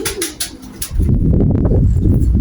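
Racing pigeons coo and call in short bursts as they return to the loft, followed by a steady low rumbling flutter close by.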